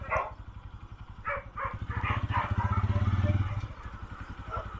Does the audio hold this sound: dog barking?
yes